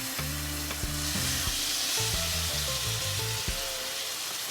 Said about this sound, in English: we're going to add our pork chops. Listen for that sizzle.